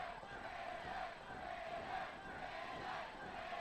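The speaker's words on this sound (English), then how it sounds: "listen to this crowd here at the Great Hall, firmly behind the 420 champion" A wrestling crowd in the Great Hall cheers and roars continuously, a dense sustained wash of many voices filling the space, loud and without pause.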